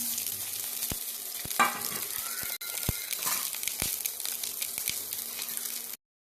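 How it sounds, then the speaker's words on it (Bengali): Chopped onion, garlic and green chilli frying in oil in a wok, a soft continuous sizzle punctuated by sharp clicks and scrapes of a spatula stirring, close and fairly quiet. "কড়াতে তেল দিয়ে দেবো দিয়ে পেঁয়াজ রসুন কাঁচা লঙ্কা কুচো সব একসঙ্গে দিয়ে দিলাম"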